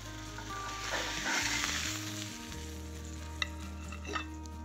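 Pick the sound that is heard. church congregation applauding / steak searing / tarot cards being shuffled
steak searing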